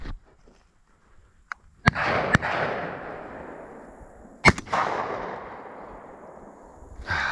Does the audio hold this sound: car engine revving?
no